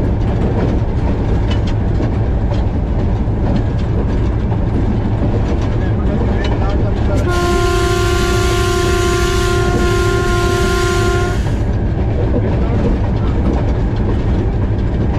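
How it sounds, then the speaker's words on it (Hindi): Loud rumbling of the Millat Express passing through a railway station in Pakistan, heard from the cab, with rhythmic rail clatter and a sustained horn-like tone sounding for several seconds midway through. "पास थ्रू हो रही है ट्रेन हमारी।"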